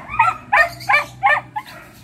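A dog recovering from distemper gives four or five short, hoarse barks in quick succession, close and fairly loud over a low background hum.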